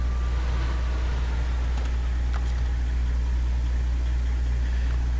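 A heavy truck engine idles in SnowRunner, a steady low droning hum that holds unchanged throughout with no talking over it.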